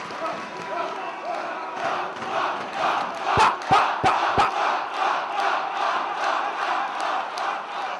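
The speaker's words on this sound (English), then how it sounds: "listen to this sellout crowd at the Manhattan Center going absolutely nuts for Delirious" A sellout wrestling crowd at the Manhattan Center roars and chants rhythmically for a wrestler, loud and continuous, with a few sharp bangs cutting through near the middle and commentary over the noise.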